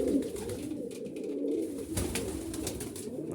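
Low, soft cooing of pigeons, including a homing pigeon, rolls on steadily, mixed with faint rustling and background noise.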